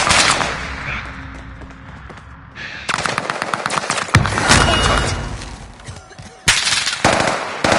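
Loud video game gunfire from a player's gun in a squad shooter, rapid automatic bursts and single shots cracking in clusters over dense battle noise, with a brief lull before the firing resumes.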